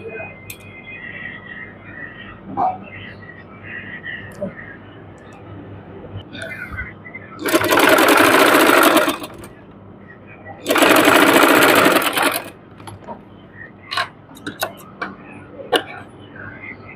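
Lace is stitched onto a sleeve on a sewing machine, two loud rapid runs of stitching of about two seconds each, near, amid quiet handling clicks and soft background sounds.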